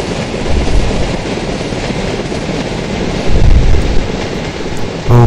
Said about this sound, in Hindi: तो पीछे से आ रही है हमारी बांद्रा टर्मिनस जामनगर हम सफ़र एक्सप्रेस विथ WP4 लोकोमोटिव